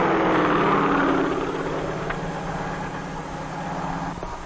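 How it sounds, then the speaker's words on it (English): A helicopter crop dusting a field roars loudly and steadily overhead, its whirling rotor and engine making a continuous droning throb that eases slightly after the first second, with no voices. "The sharp downdraft of the whirling rotor causes dust to swirl among the plants"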